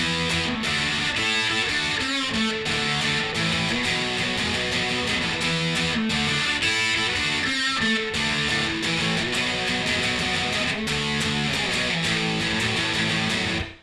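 Guitar strumming the chorus of a song straight through, with steady driving chords at a constant level and no talking.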